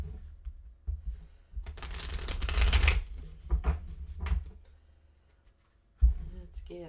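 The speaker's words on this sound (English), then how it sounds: "Let's get a couple more shuffles in." Tarot cards being shuffled in bursts of riffling and rapid flicking, loudest in a dense run midway, then sparse taps and a final thump; a voice speaks faintly underneath.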